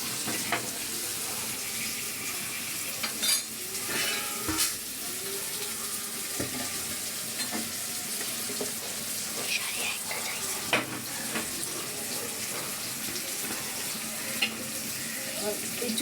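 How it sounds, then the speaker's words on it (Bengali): Dried shutki fish frying in a pan on a stove, a continuous close sizzle and crackle with intermittent scrapes and clatters of stirring throughout. "এই যে শুটকিটা ভাজা নিলাম"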